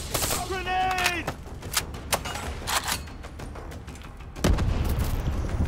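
Gunfire and a grenade blast in the Call of Duty Black Ops 3 video game, with scattered sharp shots, a rising synthetic tone early, and a heavier boom near the end under occasional voices.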